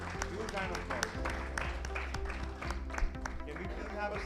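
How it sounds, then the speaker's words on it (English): Audience applause at an Indian HR conference, steady clapping from a crowd sustained throughout with a bright, dense texture and some voices underneath. "Let's clap again. Huge round of applause."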